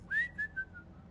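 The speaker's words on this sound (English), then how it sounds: "here's the whistling." Whistling during a night-time ghost investigation outdoors: a short series of three clear whistled tones, the first rising and longest, then two shorter held notes fading away, heard alone against faint background.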